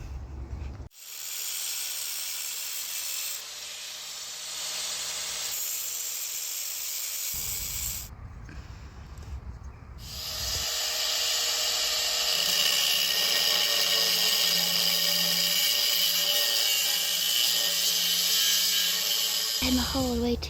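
A power tool cuts a steel piece for a narrowboat handrail in a dry dock, a loud sustained whining grind that stops, restarts and rises into a harsher, steady screech, with brief pauses between passes.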